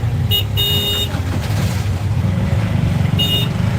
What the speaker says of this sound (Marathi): आम्ही आपलं बघा ट्रॅफिकमध्ये लाईव्ह घ्यायला लागलो आहे